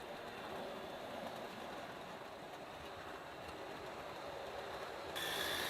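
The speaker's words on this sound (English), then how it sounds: "So the noise in the background, unfortunately, is this particular loco." An OO gauge model diesel locomotive runs on a loft layout, giving a faint, steady mechanical whirr that stays even throughout and grows slightly louder in the final moment.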